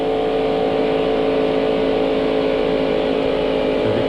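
A NASCAR stock car engine, a 1995 Ford running at Daytona, holds a steady high-revving drone near 6,800 RPM, loud and continuous throughout with other cars blended in.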